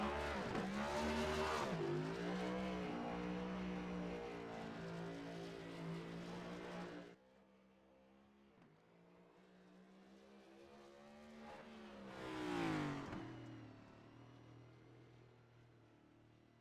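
Race cars roaring around the dirt track at Charlotte during qualifying, loud engine drone with a pass-by that drops off sharply around the middle, then a quieter stretch before another car swells close and fades.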